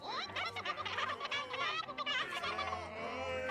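A dense flock of chickens clucking and squawking together in Sea of Thieves, busy overlapping calls close by with no pauses.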